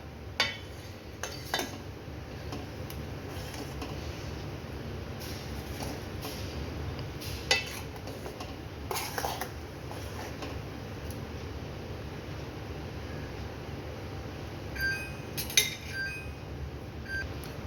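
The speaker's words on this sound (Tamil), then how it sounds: "இப்போ இது எல்லாத்தையுமே சேர்த்துட்டு இந்த சாம்பாரை நல்லா மிக்ஸ் பண்ணிக்கலாம்." A spoon scrapes and clinks against a metal pot of sambar in irregular strokes, faint and close, over a low steady background hiss.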